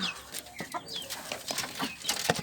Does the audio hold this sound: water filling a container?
no